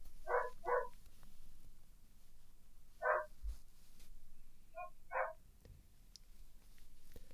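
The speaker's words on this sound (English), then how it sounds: "Your dog barking." A dog barks off in the background of a room, giving about four short bursts of two or three barks each, faint and spaced out over low steady background noise.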